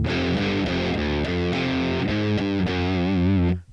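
Distorted electric guitar played through a Boss Katana Mk2 amp with the boost off, a sustained chugging riff of repeated chords and held notes at moderate loudness, ending abruptly.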